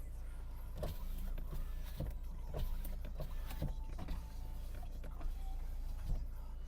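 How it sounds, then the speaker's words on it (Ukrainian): Electric power windows of a Renault Megane 3 running inside the car, a steady low motor hum with faint clicks and rubbing, heard close with no talk. "Склопідйомники працюють."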